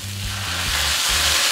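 Celery and carrot sizzle steadily in a hot pan, a loud continuous frying hiss with a low hum beneath, no voices.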